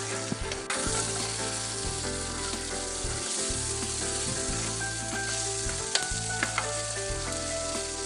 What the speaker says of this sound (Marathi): हे असं तेल सुटत तोपर्यंत आपण चांगलं मिक्स करून घ्यायचं